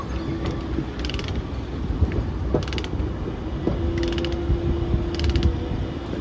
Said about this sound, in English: Obviously it works like a ratchet.